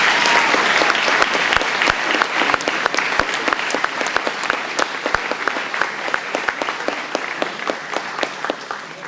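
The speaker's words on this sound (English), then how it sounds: "let us give you a round of applause for our appreciation" An audience at an elementary school centennial celebration applauds staff and faculty, steady sustained clapping from many hands with sharp individual claps standing out near the listener.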